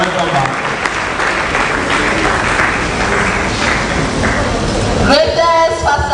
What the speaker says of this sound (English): Please, can we also clap for the associate dean?